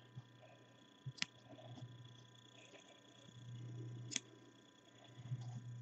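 Scissors snip off the fern and pink yarn ends on a crochet piece, giving a couple of faint, sharp close snips over a quiet background hum.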